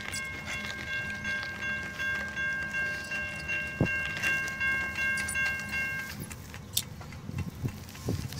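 Canadian National freight train 9638 rumbles through a railroad crossing in Effingham, Illinois, its horn sounding a long steady blast while wheels clatter rhythmically close by and the crossing gear rings.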